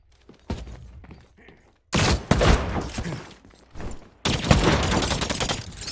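Sniper rifle shots in The Cycle: Frontier, a few sharp loud cracks with dense, noisy bursts of combat sound after them, set against quieter game ambience between the shots.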